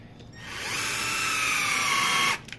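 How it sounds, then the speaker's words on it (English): A power drill pre-drills a pilot hole into wood while building a ten-shot rack, its motor whining steadily for about two seconds and then cutting off sharply. "So now that we got that pre-drilled"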